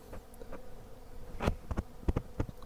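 Stingless bees buzz around an opened hive during a honey harvest, with scattered short buzzing bursts and brief rustling passes close by, fairly quiet overall.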